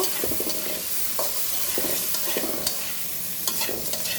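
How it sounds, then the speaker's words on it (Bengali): Eggplant pieces frying in oil in a pan, a continuous loud sizzle broken by repeated scraping stirs throughout, nearby and without any voices. "বেগুনগুলো ভেজে নিব"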